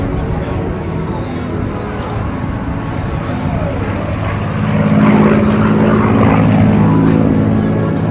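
A P-51D Mustang propeller fighter flies at the 2016 NAS Oceana Air Show, its engine a loud, steady droning roar that swells louder about midway through.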